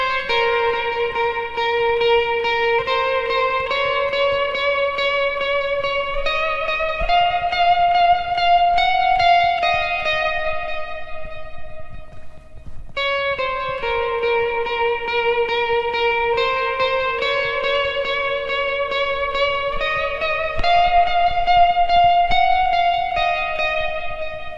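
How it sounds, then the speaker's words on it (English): An electric guitar plays a sustained lead line with vibrato, delay and reverb in a worship song, each note ringing into the next as the phrase repeats twice, loud and alone. "So adding a little bit of vibrato would sound like this."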